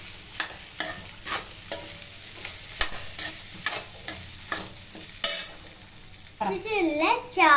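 Rice stir-fried with salt and pepper powder sizzles in a pan while a spatula scrapes in a steady rhythm about twice a second, close and fairly loud, before a voice briefly cuts in at the end.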